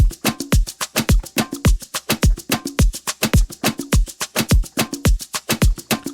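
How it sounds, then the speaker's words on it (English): Afrobeat drum sounds soloed together in Serato Studio play a tight, looping groove: punchy low kicks, crisp hats and percussion hits in a steady, syncopated rhythm, loud and clean with no voice. "So I'm going to just solo all the drum sounds together."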